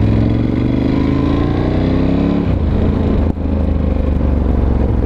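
A Ducati Scrambler 1100 Special motorcycle engine revs loud and close, pitch dropping as it decelerates, with a sharp exhaust pop partway through before the engine note carries on.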